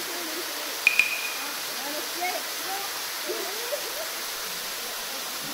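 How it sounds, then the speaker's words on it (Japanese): Takimata waterfall in Japan, a steady broadband rush of falling water heard from a short distance, with a couple of brief sharp clicks near the start and faint voices underneath. "滝です。"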